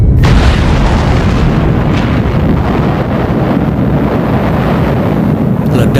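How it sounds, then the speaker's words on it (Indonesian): An atomic bomb test explosion roars as a continuous low, rumbling blast that stays loud and dense throughout. "Ledakan berbentuk seperti jamur dan mengeluarkan cahaya kilat."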